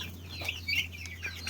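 Chickens at a rural coop, including a black hen, clucking in short repeated bursts at moderate distance over a low steady hum.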